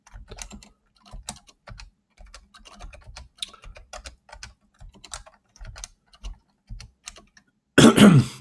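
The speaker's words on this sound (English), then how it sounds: "my typing is fantastic" Someone types on a computer keyboard in irregular bursts of close, crisp key clicks with short pauses between, ending in a brief louder noise.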